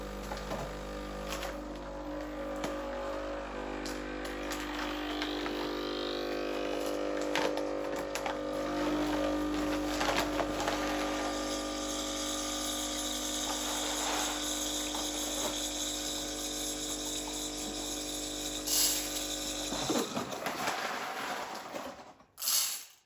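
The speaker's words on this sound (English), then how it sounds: "you press the double button. This will give you about 100 mils of hot water." A Breville Barista Express BES870 espresso machine pumps hot water with a steady mechanical hum and hissing water for about twenty seconds, then cuts off, followed by a few small clicks.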